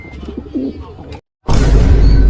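A racing pigeon gives a short coo up close, followed after a brief silence by a loud burst of rustling noise.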